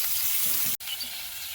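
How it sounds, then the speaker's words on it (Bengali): Steady hiss of pointed gourd and potato frying in hot oil, with a brief sharp drop in the sizzle partway through, then the crackle resumes. "গরম তেলের মধ্যে দিয়ে দিলাম"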